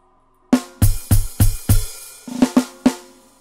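Programmed drum roll in an Afrobeat beat: four heavy booming strikes in even succession, then a few lighter, higher-pitched hits, dry and close.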